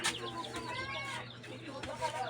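Pet chicks chirp and peep in a busy cluster of high, rapid calls close by, continuous across the moment, with a low steady hum underneath.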